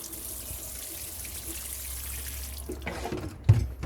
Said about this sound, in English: soaking this until I can see the water run out the bottom